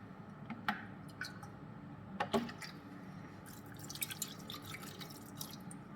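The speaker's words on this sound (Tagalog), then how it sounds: "Tapos, lagyan natin ng tubig." Water poured into a cooking pot of ginataang tulingan, a Filipino fish dish in coconut milk, giving soft drips and splashy trickles in short bursts, quiet and close, with a faint background hum and no talking.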